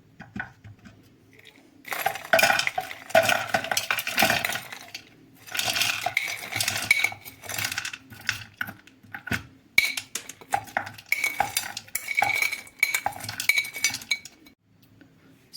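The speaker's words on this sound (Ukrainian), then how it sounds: "Перекладаю це все ще з ось таким ножем" Scraping and clinking of a metal knife against frozen berries in a bowl, continuous and close, with irregular bursts of scratchy, icy noise.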